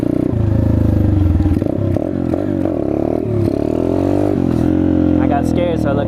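A Chinese dirt bike's engine revs up and down in loud, close bursts during a wheelie attempt, its pitch climbing and dropping as the throttle is worked.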